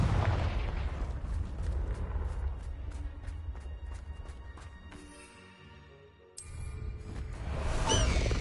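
A Confringo spell blast in Hogwarts Legacy booms through a rumbling fight, with rapid crackling bursts, a brief lull, then a sharp whooshing detonation and renewed loud rumble near the end.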